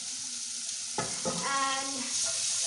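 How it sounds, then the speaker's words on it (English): Vegetables sauté in a hot pan, a steady sizzle that jumps as food hits the oil at about one second, then a few stirring scrapes over continuous frying, close and moderately loud with no talk. "You can also boil these vegetables, but I like them sauteed."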